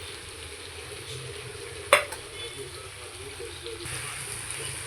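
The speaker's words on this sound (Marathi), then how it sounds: "हे सगळं मी थोडं शिजवून घेते परतून घेते" Masala tofu with crushed peanuts sautés in a pan, a low steady sizzle broken by one sharp scrape of stirring, with a voice faintly in the background.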